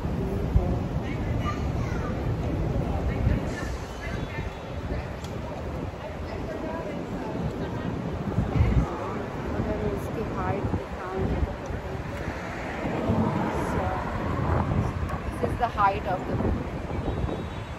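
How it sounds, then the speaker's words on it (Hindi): Steady strong wind buffets the microphone at the 360 Chicago observation deck in the John Hancock building, a continuous low rumble with gusts throughout while a person talks over it. "यहाँ बहुत हवा चल रही है, थोड़ी चिलिंग भी लग रही है."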